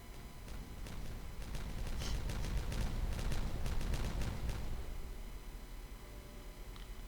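In the Timberborn building game, a rapid volley of sharp, popping explosions plays over a steady low rumble at double speed, then thins out and fades toward a quieter hum.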